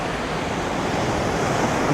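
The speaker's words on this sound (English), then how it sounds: "It's a beautiful beach and the water is great" Ocean waves wash onto a beach in Thailand as a loud, steady roar of surf, with wind buffeting the microphone and no voices.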